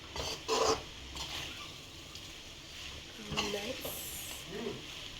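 Soaked flattened rice (avalakki) being stirred in a hot pan for gojju avalakki, with soft scraping and rubbing strokes and faint sizzling, quiet and close, broken by a few louder scrapes.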